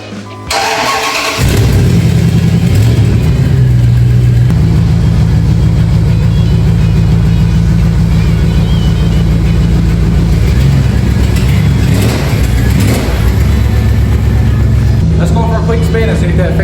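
A Dodge Ram pickup's engine cranks and catches after a brief silence, then runs loud and close at a fast idle with a few rises in revs, dipping slightly near the end before settling back.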